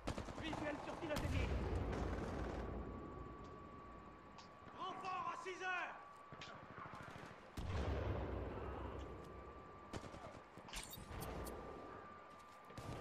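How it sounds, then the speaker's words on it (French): Gunfire in Titanfall 2 attrition mode, with bursts of shots and clattering impacts mixed among game effects and a tonal hum, while players talk over the action. "Ça tire."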